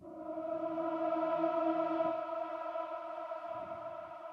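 A sustained audience choir chord with layered harmonies rings out, washed in a long, spacious Heavenly Reflections reverb set halfway that makes it shimmer and hang in the air.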